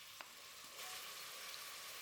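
Chopped onion goes into hot vegetable oil in a pot on the stove and fries with a faint, steady sizzle and a small splash at the start.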